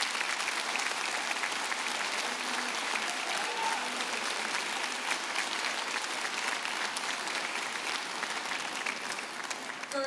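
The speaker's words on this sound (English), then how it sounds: "let's give all of these brave young people a huge round of applause" An audience at a high school senior awards ceremony gives a long, steady round of applause for students heading into military service, with dense clapping and faint crowd murmur running throughout.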